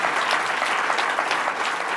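Steady round of applause from an audience at a political campaign event, dense even clapping heard alone at moderate distance for the whole stretch.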